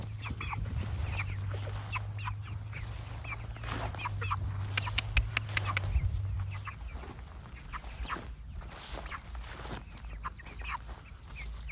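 A chicken being herded back to its flock clucks in short, repeated bursts, near and clear over a low background hum that fades partway through.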